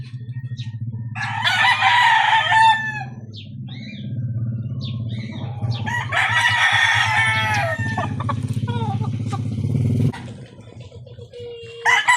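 A nine-month-old straight 5K Sweater gamefowl rooster crows twice nearby, loud harmonic crows separated by clucks and chatter of other fowl, over a steady low mechanical hum that stops near the end.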